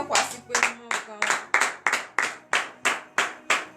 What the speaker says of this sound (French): ça demande à ce qu'on applaudit très très fort ce grand Dieu